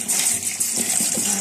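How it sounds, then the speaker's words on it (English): Running tap water streaming steadily as hands are washed, a close, fairly loud hiss with slight splashing changes as the hands move under the flow. "I'm gonna wash my hands."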